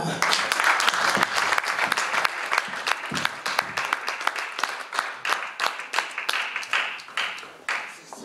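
At a book dedication event, an audience gives sustained applause, dense at first and gradually thinning into scattered claps as it fades out.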